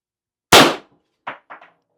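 A Pistelle X68 CO2 air pistol fires a single sharp, loud shot at a target 18 feet away, followed by three brief, softer clanks or ticks. No one speaks.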